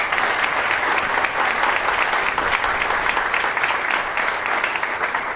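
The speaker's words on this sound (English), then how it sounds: "How about a round of applause for our Lieutenant Governor as well?" An audience at a Springfield government announcement applauds the Lieutenant Governor, a steady, full wash of clapping from a large crowd that holds evenly for over five seconds with no voices above it.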